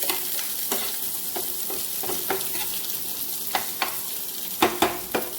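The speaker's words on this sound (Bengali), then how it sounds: "এটা পেঁয়াজ, আর লঙ্কা আর রসুন, এই তিনটে জিনিসকে ভালো করে ভেজে নেব" Onion, green chilli and garlic frying in a pan, a continuous close sizzle with regular spatula scrapes and taps, sharper strokes near the end, no talking.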